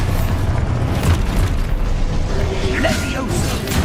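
The Expulso explosion spell cast in Hogwarts Legacy, a loud, dense magical blast and rumbling boom with crackling debris, mixed with game effects.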